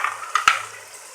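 Spiced minced meat sizzles briskly in a pan as it is stirred, with a couple of sharp scraping stirs up close before the frying fades to a soft hiss.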